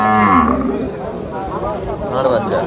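A Sahiwal cow with a bull calf at the Sonaichandi cattle market in Chapainawabganj, with a short, low moo near the start beneath steady nearby talking and market noise.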